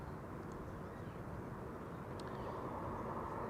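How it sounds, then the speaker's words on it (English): A KLM Embraer E195-E2 airliner arriving at Amsterdam Schiphol gives a steady, fairly faint broadband engine roar that holds evenly throughout, with no talk over it. "This is KLM flight 954 arriving from Newcastle, 51 minutes on the way, E2 Embraer 195."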